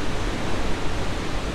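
A waterfall whose water smells like sewage, in a neglected spot with falling leaves, gives a steady, dense broadband rush that stays constant and fairly loud throughout with no voices.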